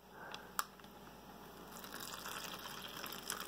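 Cold water is poured into a Beef Stroganoff meal pouch, giving a faint, soft trickle that swells slightly over a few seconds in a quiet room, with no voices.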